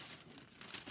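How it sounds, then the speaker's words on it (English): A sheet of parchment paper crinkles as it is laid over a sock for heat pressing, with soft, brief rustles and a slightly louder crinkle at the end, quiet and close. "Then what I do is I take a piece of parchment paper"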